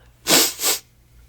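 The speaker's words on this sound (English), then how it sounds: "Sorry, I had a sneeze in my nose." A single close sneeze in two quick bursts, a sharp breathy intake-release followed by a second softer puff, over quiet room tone.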